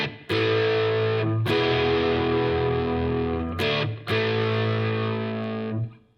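Distorted electric guitar plays the intro to a song, sustained chords rung out in long blocks, cut off briefly three times, loud and alone with no voice.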